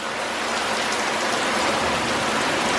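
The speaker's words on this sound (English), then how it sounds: "Yeah, it's raining." Steady, even rain falls outside, a dense continuous wash of drops pattering on surfaces with no voices over it.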